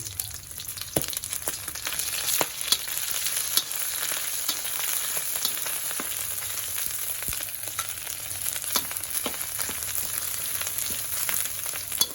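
Curry paste frying with pork belly in hot oil, a steady loud sizzle with scattered pops and crackles and occasional stirring clicks.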